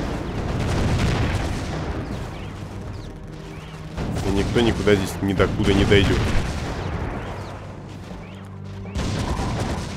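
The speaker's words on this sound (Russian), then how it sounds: "Сейчас моя пушка третьего уровня будет долбить по этим Рина." A level three gun turret fires in the tower-defense video game Defense Grid: The Awakening, with repeated loud booming shots and bursts under someone talking in Russian.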